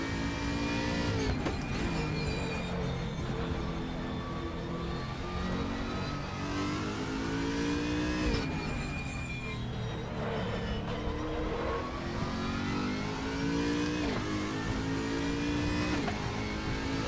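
A car engine, preferred by the driver over a Chevy small block, revs and pulls loudly and continuously, its pitch climbing and dropping through several gear changes with steady road and wind roar beneath.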